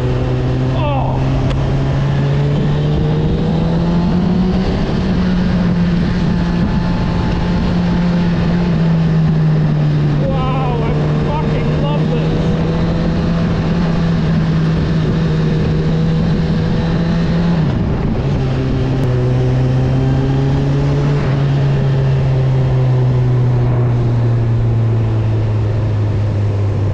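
A Honda CB1000R motorcycle is ridden on the road, its engine note loud and close, holding a steady drone that rises and falls as the rider rolls the throttle on and off, with a dip in revs partway through.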